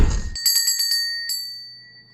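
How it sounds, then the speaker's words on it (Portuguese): A notification bell sound effect: a bright bicycle-style bell rung in a quick burst of several dings, then one more ding, ringing out and fading, loud and close after a brief noisy opening. "não deixem de ativar o sininho de notificação"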